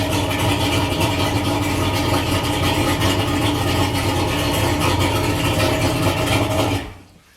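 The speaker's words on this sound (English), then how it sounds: "it's a little bit above 900 RPM. And it do sound like the motor's out a little high to me" An outboard motor idles just above 900 RPM, a steady, even mid-low drone with a slightly high-pitched running note that holds loud and constant, then cuts off abruptly near the end as the engine is shut down.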